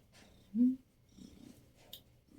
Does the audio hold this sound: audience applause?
no